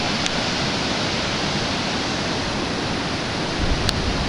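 Broadband, steady wash of sea waves breaking on a shore at night in Latvia, a continuous hiss and rumble with no distinct individual crashes, heard alone without voices.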